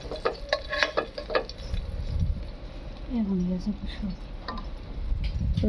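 Potatoes sizzle in a pan while a spoon scrapes and clatters in quick strokes; a voice speaks partway through, with steady frying underneath.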